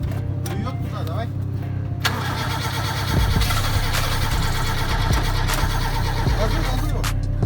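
Toyota Carib AL25 engine at its first start, cranking and then catching into loud, rough revving that swells and holds near the microphone, with people talking over it.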